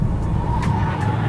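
A car on the Nürburgring track is heard cornering: a steady, loud engine drone with tyre noise running throughout, heard from inside the car, with no talking.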